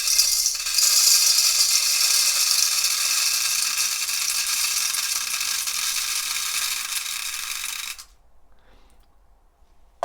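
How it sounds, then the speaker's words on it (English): Coffee beans pour into a Hive roaster pan, a loud dense rattling shower of small hard pellets that runs for several seconds, then stops abruptly into near silence. "Loading the beans into the pan."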